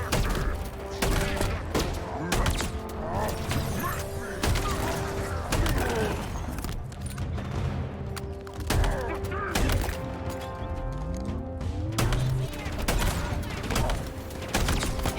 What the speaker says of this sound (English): Bulldog. Is this the auto shotty?